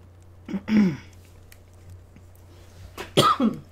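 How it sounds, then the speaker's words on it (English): Two separate coughing bursts from a lingering cough, one early and one near the end, close and fairly loud against a quiet background hum. "Excuse me, I still am not completely over all my coughing."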